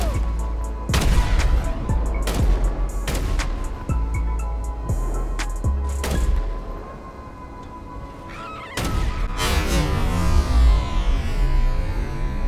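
Gunfire in GTA 5 Online, several loud, sharp shots at irregular intervals over game background noise, with a burst of explosive rumble near the end.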